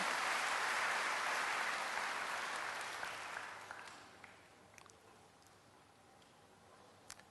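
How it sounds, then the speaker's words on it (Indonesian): Applause fills a church service, loud and dense at first, then thinning out and fading over a few seconds into scattered last claps and quiet. "Tepuk tangan bagi Allah kita saudara."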